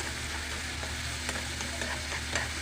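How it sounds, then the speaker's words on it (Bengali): Spice paste stir-fried in a pan for a home-style recipe, giving a steady, close sizzle with a few faint scraping stirs, no voices. "আপনারা অবশ্যই মশলাটা খুব সুন্দর করে সময় নিয়ে কষাবেন"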